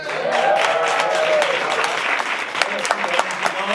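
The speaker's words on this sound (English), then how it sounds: "Give me some hand claps." An audience at an industry panel event on inclusive crews claps loudly on the moderator's prompt. The dense, continuous applause fills the room, then thins into scattered individual claps toward the end.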